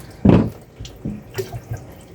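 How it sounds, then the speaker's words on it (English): Water from a cup poured into a cooking pot of lentils for Cuban-style lentils in a travel trailer kitchen, with one loud splashing pour up front followed by a few shorter trickles and drips, close and clear with no talk. "I'm gonna add the 3 cups of water, like I had planned originally"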